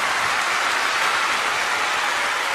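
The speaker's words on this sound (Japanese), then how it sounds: "改めてもう一度拍手をお送りください。" Dense, steady audience applause following a singer's performance at a Japanese pop music show, continuous and fairly loud with no break across the whole stretch.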